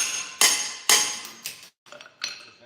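A hammer taps on a metal mining cart in a few sharp, ringing strikes, about five in quick uneven succession, close and loud with no talk.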